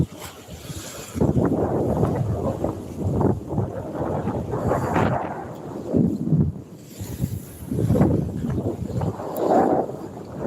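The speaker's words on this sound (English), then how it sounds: "Wind is ripping, man." Strong wind buffets the microphone outdoors on a fishing outing, a loud continuous roar that surges and eases in gusts with no voices.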